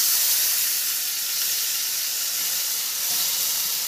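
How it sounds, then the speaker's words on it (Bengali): Marinated mutton tipped into onions fried until red and tomato in a pan for curry, giving a steady broad sizzling hiss that holds at a constant level throughout, with no talking. "এবারে আমি এর মধ্যে ম্যারিনেট করা মাংসটা দিয়ে দেবো"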